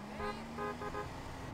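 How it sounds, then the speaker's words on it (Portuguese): Car horn in GTA San Andreas Definitive Edition, three short honks in quick succession, fairly close and clear over a low engine drone. "Qual que é o botão de buzina aqui?"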